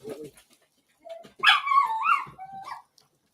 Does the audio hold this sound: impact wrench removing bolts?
no